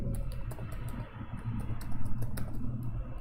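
Rapid keystrokes clatter on a computer keyboard while code for a servlet form is typed, a close, steady patter of clicks in uneven bursts with a brief lull partway through.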